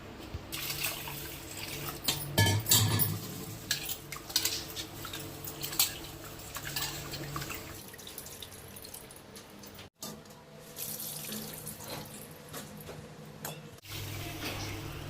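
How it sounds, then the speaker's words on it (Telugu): Rice is washed in water for prasadam, with sloshing and trickling water and faint clinks of a vessel, quiet and close, broken by brief pauses, with no talk. "ప్రసాదానికి అయితే నేనైతే బియ్యం కడుగుతాను."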